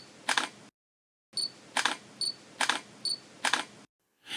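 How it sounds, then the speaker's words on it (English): Camera shutter sound effect with flash, repeated in staggered bursts: crisp mechanical clicks and a high whine from the flash recharging, about six shots spaced evenly with brief silent gaps, close and clean. "you'll see a convincing camera flash effect synced with sound"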